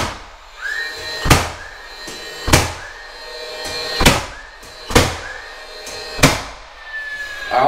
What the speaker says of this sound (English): I just want to show you the difference on nailing with a cordless 15 gauge versus an air 15 gauge